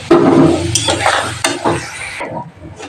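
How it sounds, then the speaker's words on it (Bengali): Fish frying in a pan with oil: loud, steady sizzle close by, broken by a few scraping stirs and utensil clinks before the sizzle fades near the end. "মাছটা ভেজে নেবো একটা একটা করে।"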